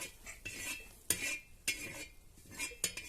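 Roasted eggplant chutney is spooned out of the pan onto a plate, with several close metallic scrapes and clinks of a spoon against cookware, spaced irregularly in a quiet room.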